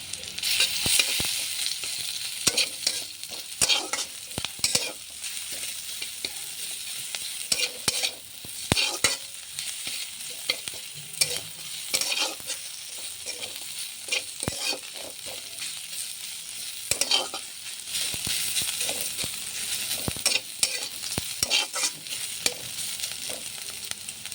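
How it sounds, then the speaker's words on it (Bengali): Steady sizzling of garlic paste and green chilli frying in a pan, with a spoon repeatedly scraping and stirring in an uneven rhythm, close up and with no voices. "ভাজা হয়ে গেছে রসুন বাটাটা দিয়ে দিলাম"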